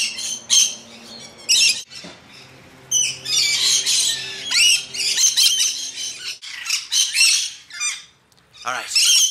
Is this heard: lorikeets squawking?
yes